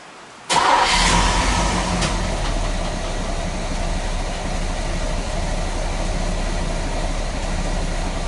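A car engine fires up abruptly after a moment of near silence. It then holds a loud, steady running drone close by, with a brief higher whine early on and no voices.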